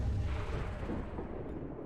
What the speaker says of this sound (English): I think we're just gonna take some shots with the turrets first